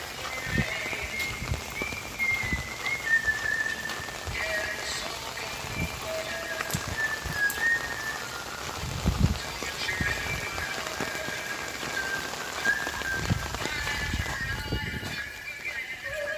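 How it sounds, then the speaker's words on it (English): Rain falls outdoors on a long walk across America, a steady soft hiss with scattered louder drops and taps continuing throughout at moderate volume. "The sun comes out and it's still raining."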